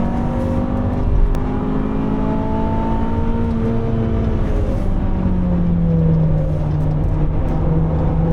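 A Honda CRX engine held at full throttle on the Nürburgring, heard from inside the car as a loud, continuous droning note that climbs slowly and steadily with revs, alone without talk.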